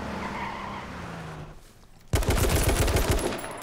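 Hip-fire gunshots in the video game H1Z1 King of the Kill, a sudden loud burst of rapid automatic fire following a quieter stretch of game ambience.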